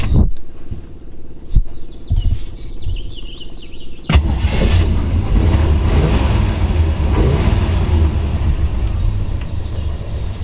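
A 1940 Ford Deluxe convertible fitted with a stock small block Chevy engine: a few clicks and an electric fuel pump, then the engine cranks and catches into a loud, steady, rumbling idle.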